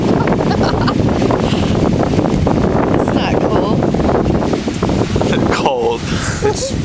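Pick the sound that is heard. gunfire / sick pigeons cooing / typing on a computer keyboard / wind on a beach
wind on a beach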